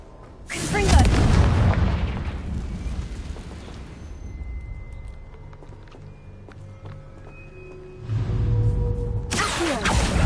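Confringo blasting spells erupt in Hogwarts Legacy, with a loud booming explosion that rumbles for several seconds and fades, then a second heavy blast at the end.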